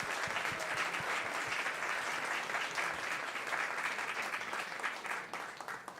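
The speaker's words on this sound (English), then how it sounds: "Huge round of applause to everyone." An audience at a charity cabaret fundraiser claps loudly and steadily for several seconds, the dense applause fading a little toward the end.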